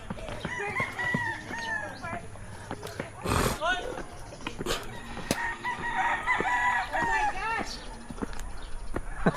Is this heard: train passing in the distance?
no